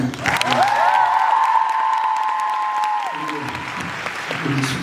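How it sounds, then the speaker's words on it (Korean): An audience at a musical theatre claps in a dense, steady roar during the curtain call after the final performance of the musical Cyrano, with a sustained high whistling tone above it, then the applause thins out. "우리 스윙 되시게 큰 박수"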